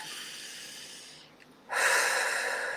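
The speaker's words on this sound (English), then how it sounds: "So take a deep breath" A slow, deep breath close to the microphone: a soft airy inhale fades to a brief pause, then a fuller, louder breath of air flows out, with no words spoken.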